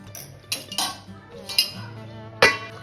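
A metal lid goes onto a pot of simmering chicken, giving several sharp clinks and clatters spread across a few seconds over a low steady kitchen hum.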